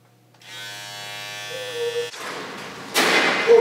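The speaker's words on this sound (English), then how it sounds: "You may be forced to shave your beard." An electric shaver buzzes steadily for a couple of seconds as a comedic beard-shaving effect, followed by thumping and scraping noises and a brief bright burst at the end.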